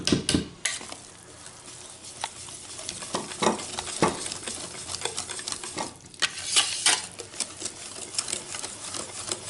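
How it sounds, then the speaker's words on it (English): Utensil beating vegan waffle batter in a bowl, giving rapid scraping and clicking strokes in uneven bursts, fairly close and moderately loud with no talking. "Mix everything together."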